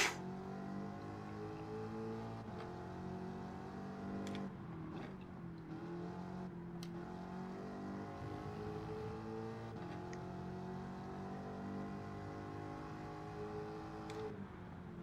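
A Mach 40 race car's engine hums and revs in Gran Turismo 7, a steady motor drone rising and falling through gear changes, heard alone at low level.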